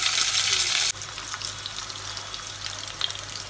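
Boiled chitol fish balls fry in hot oil, giving a loud, dense crackle at first that drops after about a second to a softer, continuous sizzle with scattered pops.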